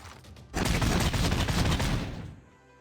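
Machine gun fire on an encampment in Civilization VI: a dense, rapid burst of rattling shots lasting under two seconds, then trailing off into quiet.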